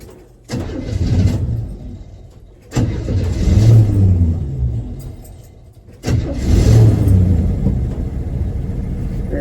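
A 1981 Chevy C10 square body engine cranks and catches three times, each start surging into a loud, close rumbling idle that sags and nearly dies before the next restart.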